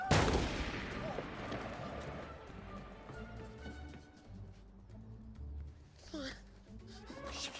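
Gunshot from a film scene: a loud sharp blast at the very start, then decaying reverberation with background score and voices talking.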